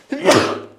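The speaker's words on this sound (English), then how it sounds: "Try not to sneeze for about 2 minutes there." A single short sneeze bursts out in a quiet room during a podcast conversation, close and fairly loud, with a sharp broadband onset that trails off quickly.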